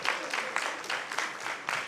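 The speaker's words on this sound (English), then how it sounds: "A round of applause again for Dandora Girls." Brief, sparse applause at a secondary school debate in Nairobi, a handful of claps in uneven bursts at moderate distance.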